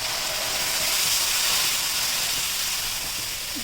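Dal cooks with browned onions in a hot pan, giving off a steady, bright sizzling hiss that stays constant and close throughout.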